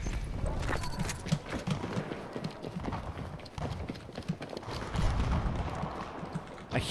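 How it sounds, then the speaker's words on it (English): Enemy footsteps in the shooter game Battlefield 2042 thud in a steady, fairly close run of heavy rhythmic steps under a rumbling battlefield background. "These are enemies' footsteps."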